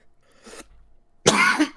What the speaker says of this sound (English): Sorry for coughing loud.